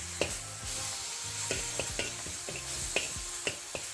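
Shaoxing cooking wine hits a hot pan with garlic, shallots and ginger, giving a steady close sizzle with a spatula scraping and tapping at a roughly regular pace throughout.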